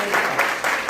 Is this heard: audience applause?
yes